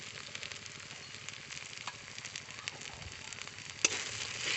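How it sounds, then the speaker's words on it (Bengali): Chili powder, cumin powder and salt fry in a pan while being cooked down for a spinach and potato dish, making a soft continuous sizzle with faint crackles and a light clink near the end. "ভালো করে মশলাটা কষিয়ে নেব"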